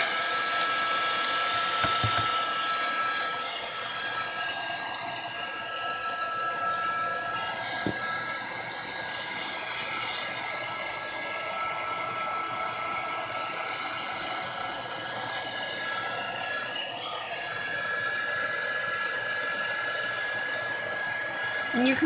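Hair dryer blowing steadily on paper for a crafted vintage look, a continuous close whirring roar with a high whine that holds for the whole stretch, with faint voice hints beneath.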